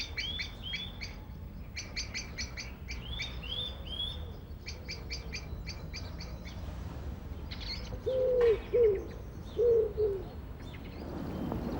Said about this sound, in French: la citelle est un petit oiseau tout à fait passionnant